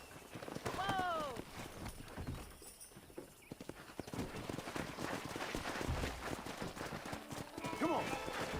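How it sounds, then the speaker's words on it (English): Wild horses in the western video game Red Dead Redemption, hooves clip-clopping in a steady galloping rhythm with shrill neighs near the start and end, a voice speaking over the action. "That ranch hand said there's a pack of wild horses nearby."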